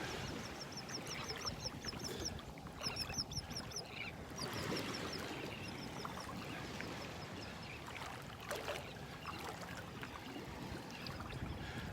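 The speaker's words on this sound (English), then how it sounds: "Listen to all those birds around me." Birds call in short repeated chirping bursts over steady surf and wind on a beach in North Naples, Florida, the calls fairly faint and scattered against the constant wash of waves.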